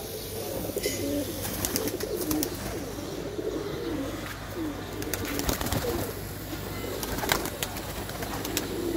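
Pigeons of Lakha, Sialkoti and Kasuriya breeds coo in low, rolling calls, several birds close by and overlapping, with scattered rustling and a steady low background hum.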